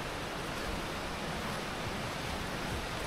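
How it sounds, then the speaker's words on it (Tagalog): Rushing water of Nonok Falls in Real, Quezon pours as a dense, steady broadband roar, close and constant with no voices. "yung tunog ng lagaslas ng tubig, nakaka-relax"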